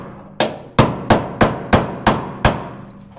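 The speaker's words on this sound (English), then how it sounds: "But luckily we can chisel through that little" A chisel hammered through a spot weld on the rusted floor of a 1967 Kaiser Jeep M715 gives seven sharp, ringing metallic strikes in a steady rhythm, close and loud, with no voices.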